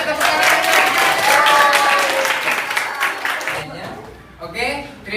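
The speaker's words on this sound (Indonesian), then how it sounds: "Luar biasa, iya tepuk tangan." Applause from a school classroom during a lesson, loud and dense through the first few seconds, then breaking off into voices talking and laughing.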